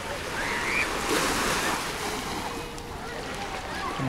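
Sea waves wash steadily along a city beach in Alanya, Turkey, while a pirate-style tourist boat heads back into port, the surf rush continuous and fairly loud with wind noise and faint voices.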